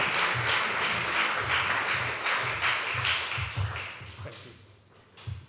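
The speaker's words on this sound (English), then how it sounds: "give him a warm applause" Warm applause from an audience greeting a speaker, dense clapping from many hands that holds steady, then thins and fades toward the end with a few final claps.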